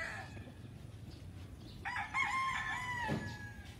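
A rooster crows once in a long, strained call in hot weather on a large poultry farm in the Philippines, with faint clucking and a quiet outdoor background.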